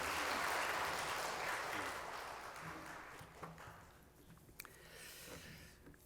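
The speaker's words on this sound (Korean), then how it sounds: "우리 박상진 교수님 나오실 때에 여러분 힘찬 박수로 환영하며" A church congregation in Yeongcheon welcomes a visiting professor with a burst of applause that starts loud and full, then thins out over several seconds into scattered claps and quiet room noise.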